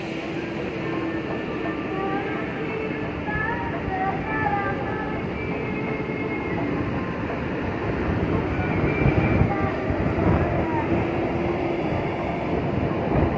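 Passenger train rolling slowly back down the line after its night departure was cancelled, a steady rumbling drone with faint squeals and hum, fairly loud and continuous, with low voices in the background.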